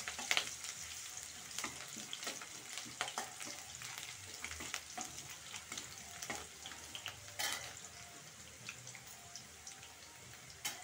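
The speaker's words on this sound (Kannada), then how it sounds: "ಇವಾಗ ಹಾಕೊಳ್ಳೋಣ, ಎಣ್ಣೆ ಕಾದಿದೆ. ನೋಡಿ ಫ್ರೆಂಡ್ಸ್, ಇದನ್ನ ಫ್ರೈ ಮಾಡ್ಕೊಳ್ಳೋಣ ಚೆನ್ನಾಗಿ." Vada sizzles steadily in hot oil for Vada Manchurian, a dense crackling hiss with scattered sharper pops and bursts throughout, close and fairly loud, with no voices.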